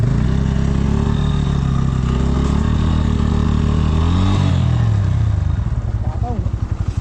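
A low-displacement motorcycle engine labours loudly and steadily up a rough, high-altitude mountain road toward a lake, its revs rising and dipping as it struggles for power, with the drone fading toward the end.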